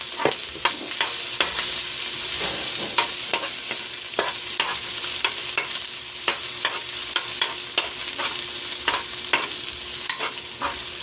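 Garlic and then onion sautéing in a pan give a steady close sizzle, broken by frequent sharp clicks of a utensil stirring against the pan, with no talking.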